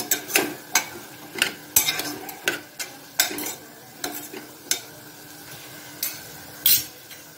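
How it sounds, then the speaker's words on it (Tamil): Snake gourd sizzles in a pan while a spatula scrapes and stirs in regular strokes, with soft clinks against the metal. "நல்லா புடலங்காயை வதக்கிக்கோங்க."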